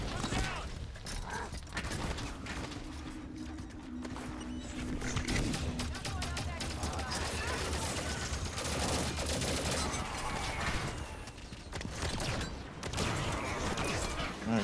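Gunfire rattles through a Halo 5: Guardians firefight as dense, continuous bursts mixed with explosions and game effects, with players talking over it throughout.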